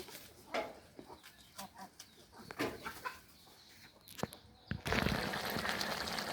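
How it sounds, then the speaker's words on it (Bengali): Scattered clucks and short calls from chickens come one after another as they come out one by one, with a rooster-like cry and a burst of rustling noise toward the end. "এই যে একটা একটা করে মুরগি সব বের হচ্ছে"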